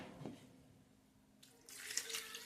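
Water is poured into a simmering potato and drumstick curry, a faint trickle that grows to a brighter splashing pour in the last second, close and with no talk.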